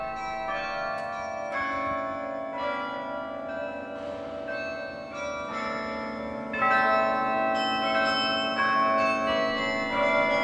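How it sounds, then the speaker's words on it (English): A carillon of 60 tuned bells high in a tower in Lyon rings out a melody by Verdi, with clear overlapping struck tones and sustained resonance, played steadily with no voices. "The Clarioneur was practicing a bit of Verdi on the 60 tuned bells he has up there."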